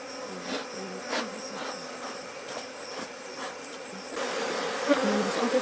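Bees buzz around beehives during hive and frame cleaning, a continuous busy drone of many insects close by, rising a little toward the end.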